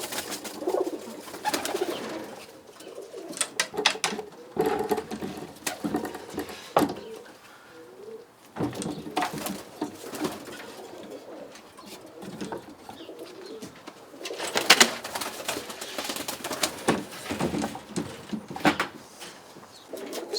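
Roller pigeons coo in a breeding box, with repeated low cooing calls, occasional wing flaps and scuffles as cocks squabble over perches, moderately close and continuous throughout.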